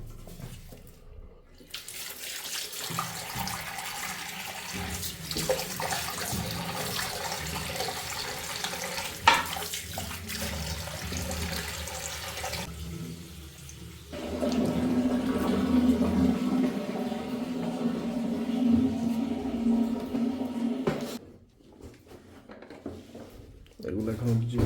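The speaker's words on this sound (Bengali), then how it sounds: "এটাকে একটু ধুয়ে নেই" A freshly caught fish is rinsed in running water at traditional spear fishing in Bangladesh, with splashing and pouring water close by in bursts, and people talking over it at times.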